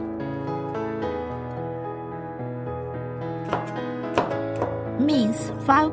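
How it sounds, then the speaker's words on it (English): A knife chops green onions on a board in a few sharp, separate cuts, partly buried under steady background music. "We cut 3 green onions in the middle to separate the white and the green part."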